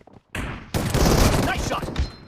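Shotgun gunfire in the mobile game BGMI (Battlegrounds Mobile India): a short, loud burst of close blasts erupting after a brief quiet moment, then fading quickly.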